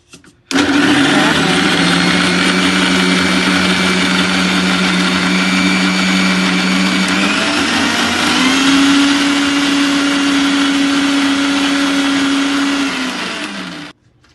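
An electric mixer grinder runs loud and close, grinding fried onions with salt in a mixie jar, its motor whine holding steady for about thirteen seconds and shifting pitch midway before stopping.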